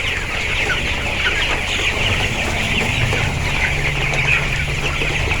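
Chickens cluck steadily on freshly changed litter in a poultry shed at midday, a dense, continuous flock chorus close by with no talk over it.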